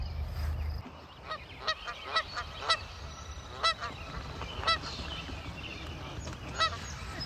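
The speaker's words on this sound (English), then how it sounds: "A couple of geese not getting along too well" Geese on a small pond honk repeatedly in short, irregular bursts over a steady outdoor background, the calls moderately close and overlapping as if quarrelling.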